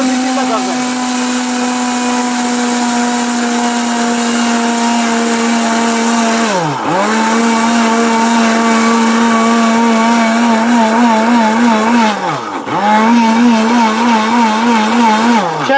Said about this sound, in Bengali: পাওয়ারফুল ব্লেন্ডার দেখেন উঠতেছে